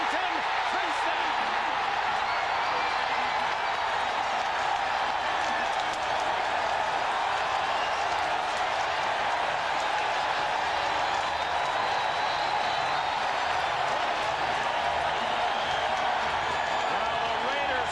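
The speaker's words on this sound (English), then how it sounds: "Now the Raiders fans cheer as they're about to take the lead" A huge stadium crowd of Raiders fans roars steadily at a Chargers–Raiders NFL football game in Los Angeles, a continuous distant wall of cheering that holds for the whole stretch with a broadcast voice speaking over it.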